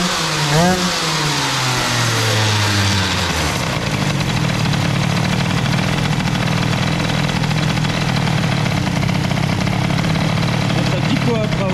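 A moped engine fitted with an Airsal XT 77 kit revs up loudly and then holds a high, buzzing drone right next to the microphone, with no gaps.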